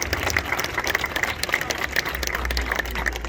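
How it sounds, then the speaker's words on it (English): Crowd applause at an outdoor unveiling of Mick Jagger and Keith Richards statues in Dartford, given in thanks to property developer Bellway London: steady scattered clapping throughout, with a low rumble underneath. "I'm going to ask for a round of applause for a property developer."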